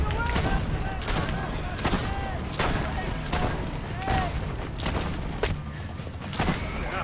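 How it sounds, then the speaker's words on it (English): Laser gun fire in Assassin's Creed: Brotherhood, mounted 15th-century soldiers in Italy shooting in rapid repeated blasts, a dense continuous barrage of loud bangs and zaps with someone talking over it. "Who gave these bastards laser guns?"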